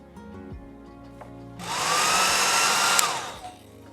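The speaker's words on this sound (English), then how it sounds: "Let's see if we can accelerate it with a hairdryer" A hairdryer switches on and blows steadily for about two seconds over a verdigris patina finish, a loud broadband rush with a faint whine that rises then fades as it cuts off.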